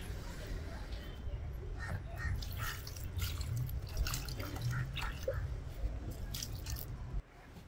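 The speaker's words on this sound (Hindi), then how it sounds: "थोड़ा पानी डाल देते हैं" Water poured onto potted plants in a home, soft splashing and dripping against soil and leaves that runs steadily for several seconds while a voice talks quietly nearby.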